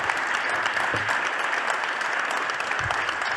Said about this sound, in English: I think we should give a round of applause to this wonderful panel